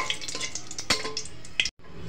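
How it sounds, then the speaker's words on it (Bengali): Dried red chilies with stems removed fry in hot oil in a pan, giving a steady close sizzle broken by a few sharp clinks and stirring scrapes before a brief cutoff. "এখন আমি তেলের মধ্যে মরিচ ছেড়ে ভেজে নেব।"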